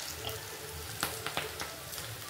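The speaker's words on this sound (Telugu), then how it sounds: "ఇప్పుడు కానీ నూనె కాగింది కదా, ఇలా వేస్తున్నానండి. పకోడా" Ponnaganti pakoda batter drops into hot oil, giving a steady, faint sizzle with a few sharp crackles and pops as the pieces start to fry.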